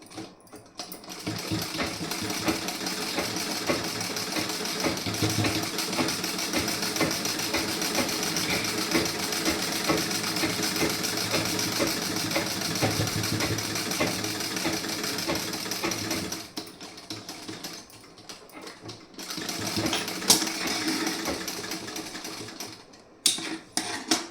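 A sewing machine stitches together the back panel and sleeves of a garment, a fast steady mechanical whir running continuously for most of the time, then stopping and restarting in short bursts near the end.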